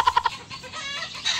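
A chicken clucks close by, three quick sharp clucks followed by a softer trailing cackle, brief and clear with no talk.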